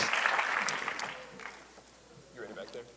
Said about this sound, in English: Let's give a hand clap for them.